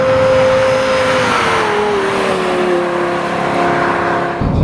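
A Lexus LFA supercar's engine revs loud and close, its high, smooth howl sliding slowly downward over several seconds as the car drives along a street, with no other sounds over it.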